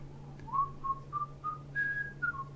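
A melodic whistled sound effect from an online chess site plays as a run of short rising and falling tones, clear and steady over a low background hum, with no talking.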